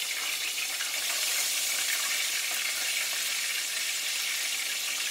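Bone-in pork chops fry in a hot pan with a steady, dense sizzle that holds even and close throughout, no voices over it.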